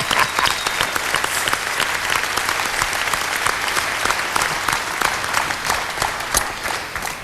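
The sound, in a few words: TV crew applauding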